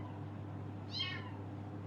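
A single short, high meow from a kitten sounds once, fairly faint, over a low steady hum with no talking.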